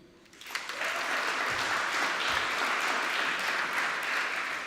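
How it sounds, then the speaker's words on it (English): Steady applause from a crowd swells in after a brief quiet start and holds at an even level throughout. "we'll give a round of applause after each one I introduce"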